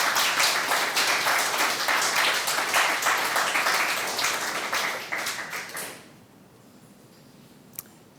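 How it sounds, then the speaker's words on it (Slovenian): A crowd of audience members applauds loudly and steadily for about six seconds, then the clapping fades out quickly, leaving quiet room tone and a single sharp tap near the end. "En aplavz, prosim, za soavtorja Kontrabanda."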